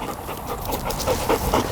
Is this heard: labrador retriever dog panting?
yes